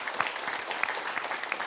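A church congregation claps after a choir's praise song during a Sunday worship service, a steady brief burst of applause filling the sanctuary with no one speaking.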